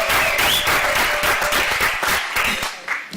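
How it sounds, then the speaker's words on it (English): A conference audience at a women-in-leadership event bursts into loud, close applause, a thick wash of many hands clapping with a few cheers mixed in, easing slightly over three seconds. "so another round of applause for you"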